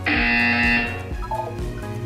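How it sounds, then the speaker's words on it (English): A loud, steady electronic buzzer tone from Portal 2 holds for under a second, then cuts off, leaving quieter background game sounds behind. "You will hear a buzzer."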